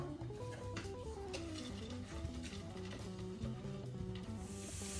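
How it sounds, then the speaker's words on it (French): Shallots fry in melted butter in a pan, giving a soft, continuous sizzle with a low hum running under it and no talking. "Je fais revenir les échalotes"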